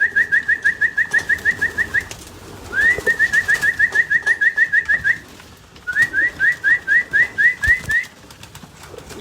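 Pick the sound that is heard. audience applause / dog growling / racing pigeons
racing pigeons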